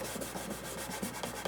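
Abrasive paper rubbed over a shellac finish, a dry scratchy rasp in quick back-and-forth strokes repeating steadily at close range.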